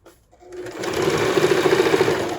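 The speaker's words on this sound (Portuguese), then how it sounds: "nós vamos começar passando essa primeira costura. Pode passar, inclusive, com um ponto bem largo" A sewing machine runs a wide, long stitch along the first seam of a skirt hem. It starts after a brief quiet moment, then hums steadily up close with a fast, rhythmic pulse of stitching.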